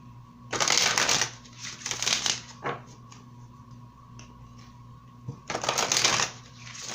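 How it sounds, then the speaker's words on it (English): Oracle cards being shuffled by hand in a quiet room, several distinct riffling bursts with short pauses between them and a faint tick in the middle, close and clear with no talking. "I'm going to pull a couple of oracle cards."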